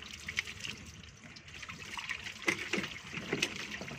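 Leftover water trickling and draining inside a washing machine's spin dryer, with small splashes and drips over a steady liquid wash, close by.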